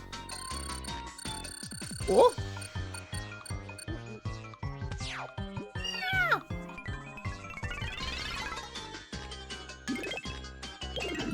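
Cat-like security guard meowing in Super Paper Mario, heard as repeated short electronic meow calls over busy, bouncy game music with chiming jingles throughout.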